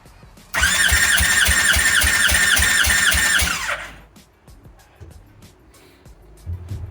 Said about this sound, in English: I spin it about 10 revolutions on the starter